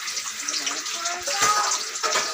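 Chopped onions hit hot oil with bay leaf in a heated kadai while Kadaknath chicken is being cooked, a steady bright sizzle heard under talking.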